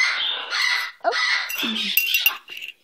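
A pet bird gives a run of close, bright chirps and squeaky calls, with short rising whistles and brief gaps between bursts.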